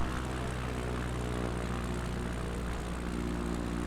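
X Cub light airplane engine on landing approach with full flap, a loud steady propeller drone heard from inside the cabin, continuous with no voices.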